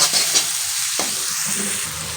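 Chopped ginger sizzles on low heat in a pan for potato dum, a steady frying hiss broken by a couple of stirring scrapes, close and without talk.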